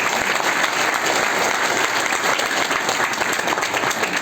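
Loud, continuous applause from an audience at an honouring ceremony for Sayyad Sir, a thick, even wash of many hands clapping for several seconds.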